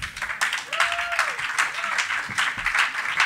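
Crowd applause at a rock concert in Sala Matisse, a continuous bed of clapping and cheering with a tonal whine and murmuring voices mixed underneath.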